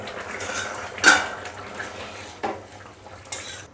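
A lid is set on a cooking pot of Bengali taro and catla fish head curry, a sharp metallic clank followed by softer knocks and light rattles of pot and utensils.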